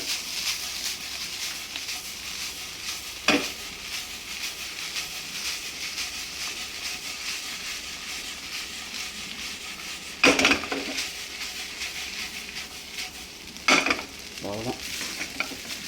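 Rice for a vegetarian pulao sizzles steadily in a pan while a spoon stirs it, with a few sharp scrapes and knocks against the pan rising over the frying.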